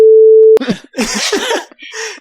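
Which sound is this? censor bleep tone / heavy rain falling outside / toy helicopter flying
censor bleep tone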